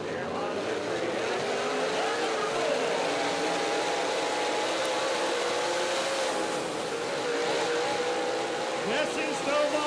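Several dirt track race cars run side by side on a 3/8-mile dirt oval at about 100 mph, a dense engine roar that holds steady and fairly distant, with faint crowd or announcer voices under it.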